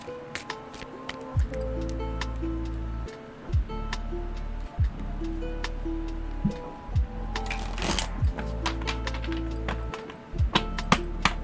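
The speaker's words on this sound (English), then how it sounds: "And I'll shuffle in the meantime." Tarot cards are shuffled by hand in repeated short riffling bursts with soft taps and pauses between them, close and fairly quiet, with no talking.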